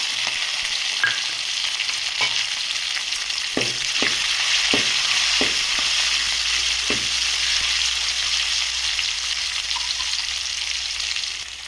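Onion pieces frying in hot oil, a loud, steady sizzle and crackle with a handful of sharp spatula taps and scrapes spaced through the first half, heard alone.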